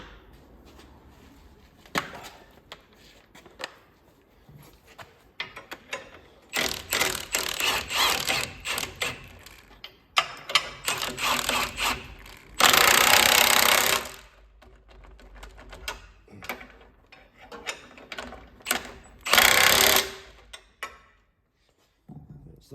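Bolts being tightened on a Massey Ferguson 1250 tractor, heard as bursts of rapid mechanical rattling and whirring, likely a power wrench, with clicks and clanks between them in a quiet workshop and no one speaking.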